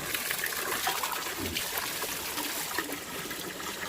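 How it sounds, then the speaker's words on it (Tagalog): Spring water trickles steadily out of a rock on a mountainside stream in Tung Chung, Hong Kong, a close, continuous splashing babble with no talk. "yung tubig nanggaling dyan sa may loob ng bato"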